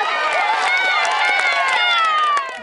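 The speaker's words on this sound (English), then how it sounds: "So give her all a big cheer." A crowd cheers and shouts at a flyball dog race, a loud, sustained roar of many excited voices that fades slightly at the end.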